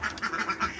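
Ducks at a pond give a quick run of nasal quacks, five or six close together in rapid succession, near and moderately loud.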